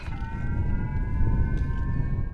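A steady wailing missile alert siren drones on during a school drill, over a loud, rumbling low background, continuous and unbroken throughout.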